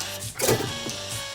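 An electric toothbrush plays a song as a buzzing, tonal melody, a short run of faint electronic notes with a louder swell in the middle, heard alone.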